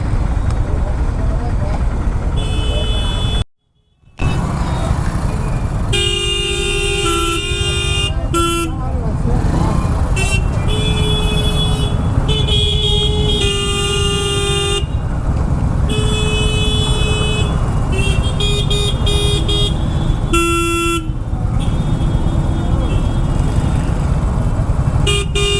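Street traffic on GM Road in Patna, with repeated car horns honking in short bursts over engines idling and rumbling nearby, and a brief cut to silence early on.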